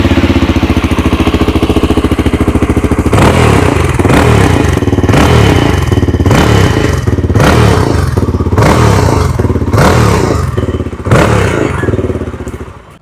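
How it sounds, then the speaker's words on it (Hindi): A 2026 Yezdi Scrambler 350 motorcycle's engine and exhaust, loud and close, idling steadily before a series of sharp throttle blips that rise and fall about every second. "आइए अब सुन लेते हैं इस बाइक की एग्जॉस्ट नोट।"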